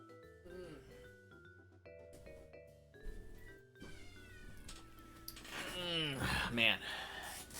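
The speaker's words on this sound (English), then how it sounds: "I need to stop my cat." A pet cat meows repeatedly in a home while a video game plays, its cries growing louder and more drawn out into strained yowls near the end, heard over music and someone talking.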